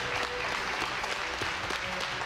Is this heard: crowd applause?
yes